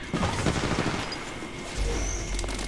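Automatic gunfire and impacts in the mobile battle royale Apex Legends Mobile, dense bursts of rapid shots early, a lull, then a heavy boom and renewed rumbling fire, loud and close.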